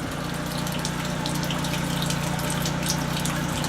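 Water gushes steadily through a pump and pipes during washing at a sugar shack, a continuous loud rushing flow with a low mechanical hum underneath, no pauses.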